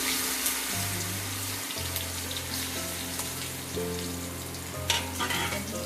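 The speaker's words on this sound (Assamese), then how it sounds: "কেৰাহীটোত তেল গৰম হ'ল আৰু মই এয়া" Banana pieces fry in hot oil in a wok, giving a steady close sizzle and crackle over a low stove hum, with a few sharper pops toward the end.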